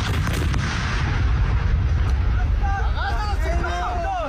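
A loud explosion and gunfire-like blasts during soldiers' football game, a dense rumbling roar over crowd babble and shouting, with rising whistling tones near the end.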